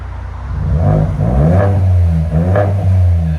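A Ford Edge ST with the 2.7L EcoBoost engine and a muffler delete revs in repeated loud, close pulls, its deep exhaust drone rising and falling with each blip of the throttle.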